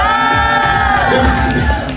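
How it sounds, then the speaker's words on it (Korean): Fans at a RIIZE fan signing event let out a loud, sustained cheer with screams and shouts, a dense crowd roar filling the whole moment. "우리 큰 함성으로 라이즈 분들께 인사 먼저 부탁드리겠습니다."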